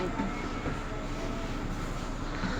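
Train pulling out of a railway station by a tram stop in Basel, heard as a steady low rumble with a faint whine, no talking over it.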